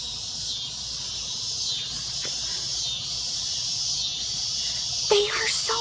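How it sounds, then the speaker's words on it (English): Loud, continuous high-pitched cicada buzzing fills the trees in Louisiana, steady throughout, with a brief bird chirp near the end. "the cicadas in these trees, can you hear them?"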